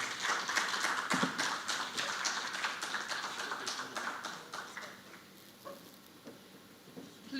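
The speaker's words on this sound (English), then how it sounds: "Please, another round of applause for him as he makes his way to his seat." Audience applause at a formal conference event, dense clapping that is loud at first, then thins out and fades to scattered claps in a large room.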